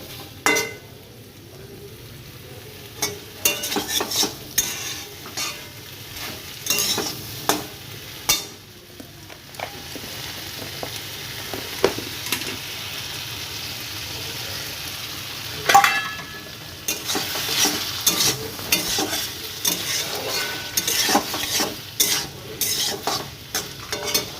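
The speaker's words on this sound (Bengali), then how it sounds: "এবার আমি আর একটু কষে নেওয়ার পর পরিমাণ মতো জল দিয়ে দেবো" Taro being sautéed with hilsa fish in a pan, a soft continuous sizzle broken by repeated scraping and stirring strokes of a spoon against the metal, close and moderately loud.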